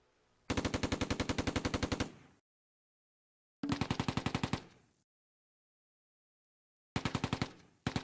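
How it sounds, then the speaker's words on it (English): A Daimler armored car's gun fires in the WWII game Close Combat, heard as three rapid automatic bursts, each a quick run of evenly spaced loud shots separated by silence. "The Daimler fires at the 251 and misses."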